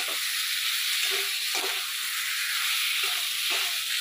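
Potatoes, chopped tomatoes and red lentils fry in a hot pan with a loud, continuous hiss of sizzling oil, broken by a few soft stirring scrapes.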